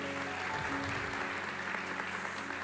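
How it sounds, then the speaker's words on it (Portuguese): A church audience applauds a pregnant woman, with dense, steady clapping continuing without a break. "vamos aplaudi-la, uma grávida"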